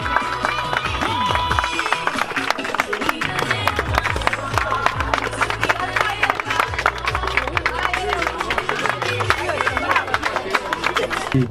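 Wedding guests applaud the bride and groom with dense, sustained clapping and crowd noise, while voices carry over the top throughout.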